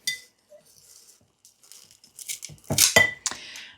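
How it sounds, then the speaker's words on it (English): A kitchen knife chops fresh cilantro on a board, sparse faint taps early then a few sharper, louder cuts near the end, with no voices. "I'm going to cut a little bit of cilantro"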